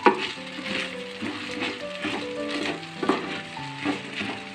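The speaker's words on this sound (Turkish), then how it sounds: "Sık sık karıştırın böyle çevirin sürekli." Rice for pilaf stirred and fried in a pan, a continuous sizzle broken by repeated scraping stirs and light clinks of the utensil against the pan, close and moderately loud.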